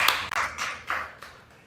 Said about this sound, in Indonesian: Tepuk tangan buat Bang Dami.